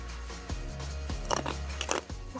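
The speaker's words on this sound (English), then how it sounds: "crunch from the sunflower seeds" Crunchy kale salad with sunflower seeds and croutons being chewed close to the mic, a series of crisp bites and crunches at an irregular pace, with no talk.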